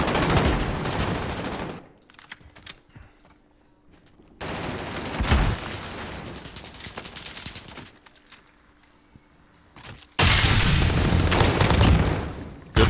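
Bursts of gunfire from a competitive team shooter match, loud dense volleys at the start and end with quieter scattered shots between, no talk.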